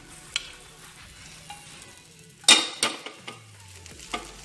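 A bread and cheese sandwich is turned over in a pan of ghee; quiet frying with a soft thud and brief spatula scrapes, then a gentle sizzle that continues faintly with a few small clicks.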